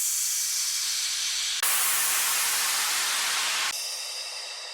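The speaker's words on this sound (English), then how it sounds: "Downlifters, which are mostly white noise." Bursts of bright white noise from an Afro House downlifter effect that change abruptly in tone, the hiss gradually thinning and fading toward the end like a falling sweep.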